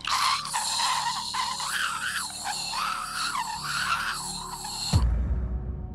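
Harsh, warbling electronic screech of radio static, loud and continuous, then abruptly dropping into rough low rumbling noise near the end.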